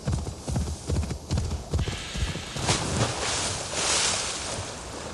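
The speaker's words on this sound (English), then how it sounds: "at least the horse can make it upstream" Horse hooves clip-clop in a steady rhythm while riding along a river in Assassin's Creed Valhalla, close and fairly loud, fading into a broad wash of water and wind ambience.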